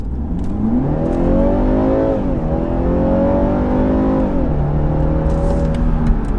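A BMW 330i xDrive accelerates hard, its engine pulling up through the revs in a loud, close drone, dipping briefly at a gear change before climbing again, interior perspective with no talk.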